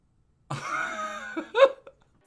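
A single voice imitates a cough, a drawn-out forced rasp followed by a sharper cough burst, close and alone against silence.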